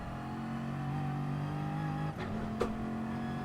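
A Bugatti Veyron engine in Gran Turismo Sport hums steadily at a sustained pitch, then drops briefly as it shifts or lifts before carrying on. The sound is moderately quiet and heard alone.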